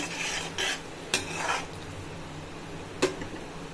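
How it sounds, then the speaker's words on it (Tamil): Pea masala being mixed in a pot on the stove, a few wet stirring swishes and a couple of sharp spoon knocks against the metal over a faint simmer, close but quiet. "சேர்த்துட்டு நல்லா கலக்கி விட்டுருங்க"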